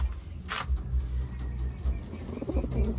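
Blue bar pigeons from Taiwan cooing in low, soft, repeated coos at close range, with a sharp bright noise near the start and a faint high hum behind.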